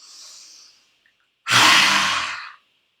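A lion-breath yoga exhale: a soft breath in, a pause, then a loud, forceful open-mouth exhale with a rasping throat sound lasting about a second, close and alone.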